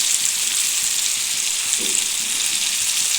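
Ginger-garlic paste is frying with softened tomato in a pan, making a steady, fairly loud hiss of sizzling oil throughout, with one faint thump partway through and no voices.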